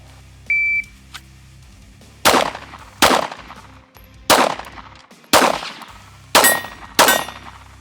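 Pistol fired without sights at targets, a short timer beep followed by six sharp, loud shots spaced roughly evenly about a second apart, each with a brief ringing decay outdoors.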